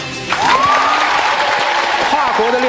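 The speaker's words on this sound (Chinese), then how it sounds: "来，再热烈一些的掌声" A studio audience on a Chinese relationship dating show claps together, a dense, loud wash of applause held steady for a few seconds, with a voice speaking over it.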